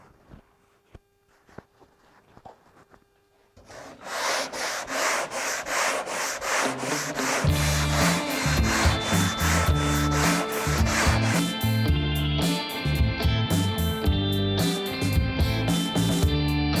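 Long sanding block with 80-grit paper worked across a long car body panel during restoration bodywork, close and loud: steady rhythmic back-and-forth rasping strokes that begin after a few quiet seconds and keep going without pause.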